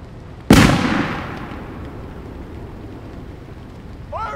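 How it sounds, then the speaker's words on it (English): A single loud grenade blast in the WWII game Call to Arms Gates of Hell, a sharp close boom that trails off into rumbling debris and background noise, with a brief faint voice near the end. "Grenade!"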